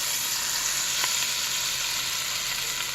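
Flour-coated chicken pieces browning in a pan, a steady dense hiss of frying fat with one faint tap, close and even throughout.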